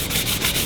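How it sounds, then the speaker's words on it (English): Fine 220-grit sandpaper rubs steadily over an Osage orange wood bow during final sanding, giving a close, continuous scratchy hiss with a quick back-and-forth pulse. "Alright, so down to final sanding."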